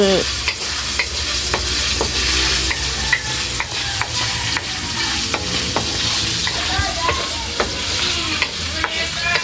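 Onions and garlic sauté in a pan with a loud, continuous sizzle, broken by frequent sharp clicks and scrapes of stirring.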